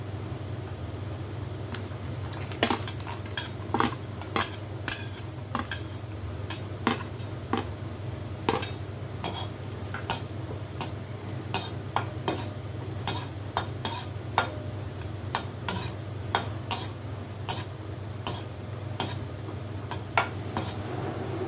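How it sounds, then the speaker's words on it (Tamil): Cashews and raisins roasting in a pan for sweet pongal: a spatula clicks and taps against the pan in an irregular rhythm over a faint steady hum, close by with no talking. "இப்போ நான் வந்து முந்திரி திராட்சை ரெண்டுமே வறுத்து எடுத்துக்கலாம்"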